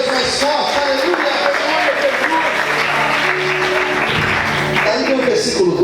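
Sustained, energetic applause from a church congregation fills the room, with a preacher's voice and music carrying over the clapping.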